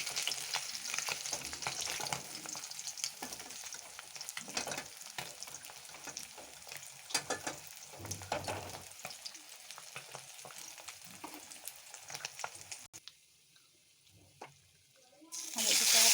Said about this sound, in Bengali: ভেজে নেব হয়ে গেছে এখন তুলে নেব